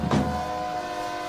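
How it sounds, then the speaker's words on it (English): A train horn sounds at a sports event celebration, a steady sustained tone held throughout, with a brief louder burst of crowd or ambient noise at the start. "There's a train horn for folks that maybe are hard of hearing and don't realize it."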